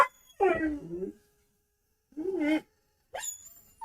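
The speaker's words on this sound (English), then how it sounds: "hear the howling?" A dog howls and whimpers indoors in three separate long, wavering bursts broken by silent gaps, moderately loud and close, with no speech over them.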